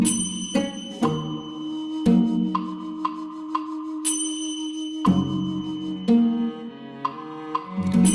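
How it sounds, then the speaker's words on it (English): Three resonant bell strikes ring out during a breathwork session, each with a clear attack and a long shimmering decay, plus softer chimes and tones sounding between them in a quiet setting. "3 bells."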